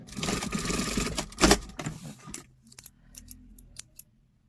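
A sewing machine stitches fabric for a sleeveless crop top made from a reworked dress, a rapid mechanical whirring run close by that stops, followed by a few quiet clicks and taps of handling.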